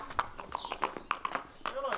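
Horse hooves clip-clop in a quick, uneven series of sharp knocks on hard ground, fairly close, while people talk over them.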